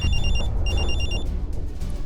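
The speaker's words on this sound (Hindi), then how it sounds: "तभी मेरा फोन बजा" A phone rings with a bright electronic trill, two bursts separated by a short pause, over a low steady background hum.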